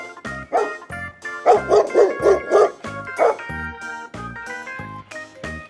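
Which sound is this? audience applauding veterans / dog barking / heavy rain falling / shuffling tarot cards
dog barking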